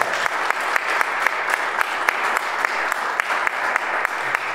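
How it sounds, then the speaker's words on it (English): An audience at a live show held in a church applauds steadily, dense clapping filling the room at full strength throughout with no break. "And one more round of applause for Kurt and Sheree at a church for putting this on."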